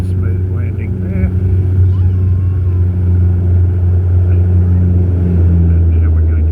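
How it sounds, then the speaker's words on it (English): Inside an airliner on flight ZL6417 braking hard on the runway after landing in Sydney, a loud, steady, deep rumble and roar fills the cabin without letting up. "And now we're going to brake heavily to slow the aircraft down"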